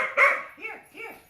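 A young adopted puppy gives a short, close burst of barks followed by two softer, rising-and-falling yips, each separated by brief pauses.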